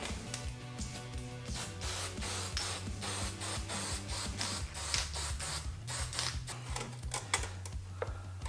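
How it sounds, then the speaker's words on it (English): An aerosol can of high-tack sealant sprays onto head gaskets in a quick series of short hissing bursts, close and fairly loud, with mechanical clicking between them. "we're just gonna high-tack spray these head gaskets"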